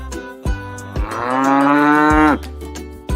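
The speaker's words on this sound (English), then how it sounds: "Cow says." A cow gives one long, loud, drawn-out moo in the middle, framed by short rhythmic thumping beats of a children's song before and after.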